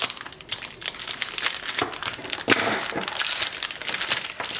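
Plastic packaging crinkles and crackles close up while a pre-order washi tape item is pulled out, a continuous dense rustle with a louder crunch midway.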